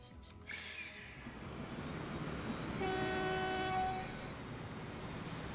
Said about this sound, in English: Let's follow this train.